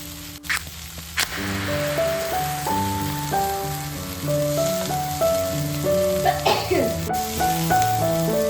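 Fish frying in a pan gives a steady, hissing sizzle that runs throughout, partly buried under background music with a plucked melody.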